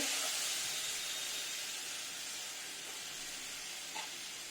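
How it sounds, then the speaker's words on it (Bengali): Washed lentils fry in a pot for khichuri, giving a soft, even hiss and sizzle with a faint stir near the end, low in level and close. "ডালটা ধুয়ে রেখেছিলাম ডালটা এর মধ্যে দিয়ে দিলাম দিয়ে একটু ভাজবো"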